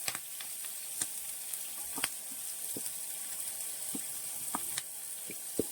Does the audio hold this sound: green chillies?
yes